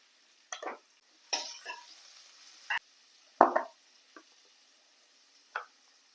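Onions cook in a pan for a black chana gravy, heard as scattered spoon scrapes and brief sizzling bursts with quiet gaps between them, close and fairly faint.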